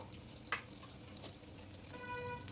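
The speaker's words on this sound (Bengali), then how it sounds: "দেখো পেঁয়াজ আর ক্যাপসিকামগুলোও আমি নেড়ে নিচ্ছি।" Onions and capsicum stirred in hot oil in a frying pan, a steady low sizzle with a few scraping clicks of the spoon against the pan, close by with no talk.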